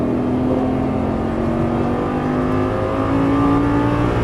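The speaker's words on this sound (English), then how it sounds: "full throttle." A Lamborghini Gallardo LP550 at full throttle on a racetrack, heard from inside as a loud, continuous engine roar whose pitch climbs smoothly and steadily through the run.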